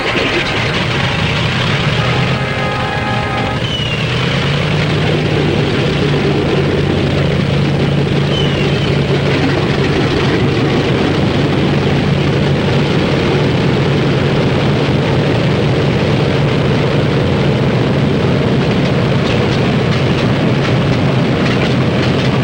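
Multi-engine WWII bomber engines starting up and settling into a loud, steady droning roar that fills the whole span without letup.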